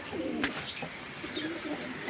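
Pigeons kept isolated in separate cages at a pigeon show setting give soft, low cooing calls with a few faint chirps, close by against a steady background murmur.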